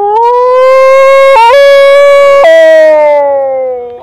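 A man imitates a dog howling in the morning with his voice, one long, loud, sustained wailing tone that wavers slightly, breaks briefly and slowly trails off, heard alone.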